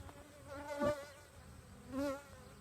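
Honeybees fly around a beehive, two loud buzzing passes swelling close by and fading against a soft background hum.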